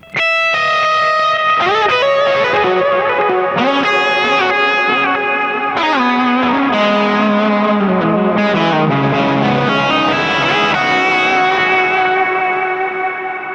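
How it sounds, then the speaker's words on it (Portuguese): Electric guitar played through a Kemper profiler with delay, heavy reverb and a first stage of drive rings out in loud sustained distorted chords and notes, with echoing repeats and long reverb tails and no voices. "o delay, o reverb mais forte e um primeiro estágio de drive aqui, a gente vai ter esse resultado"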